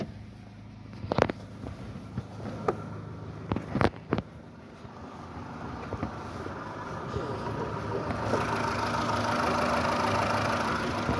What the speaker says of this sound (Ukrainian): Ось працює цей двигунчик.